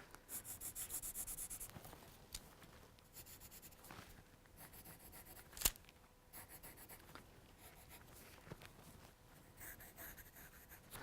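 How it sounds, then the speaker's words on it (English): A pencil scribbles heavily over the back of traced patty paper, a close, continuous scratchy rubbing in quick back-and-forth strokes with a few brief pauses and taps. "I'm going to draw heavier so that my lead is excess."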